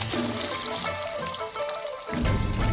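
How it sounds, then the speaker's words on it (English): Water pours into a frying pan of black beans, a close splashing trickle that fades briefly and then surges louder near the end. "And then fill it with water."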